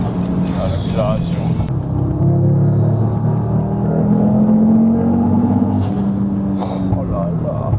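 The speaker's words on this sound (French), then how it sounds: "Ah, l'accélération." An Audi RS3 accelerates hard with a loud, rising engine roar that holds for several seconds, with someone talking over it.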